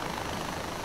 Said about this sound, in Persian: هلیکوپتر